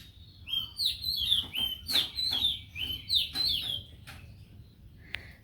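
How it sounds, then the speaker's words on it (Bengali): An oriental magpie-robin sings a string of clear, bright whistled phrases in a quiet Bangladeshi village morning, fairly close, with short pauses between bursts and a soft low background hum. "দোয়েল পাখির মিষ্টি কণ্ঠে"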